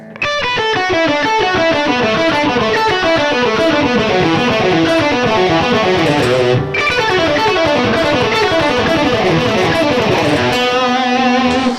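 Distorted electric guitar picks a rapid, continuous run of notes stepping downward in repeating patterns, loud and steady, with a brief break near the end.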